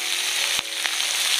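Chopped greens, aubergine, potato and green chilli hit fried onion and garlic in a hot pan, giving a steady sizzle with a couple of sharp clinks.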